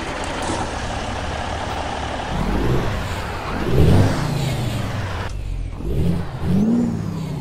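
A Cummins N14 Select engine in a Kenworth T680 truck in American Truck Simulator cranks and fires up, then idles with a steady low rumble and swells into brief revs, loud and close with no talk.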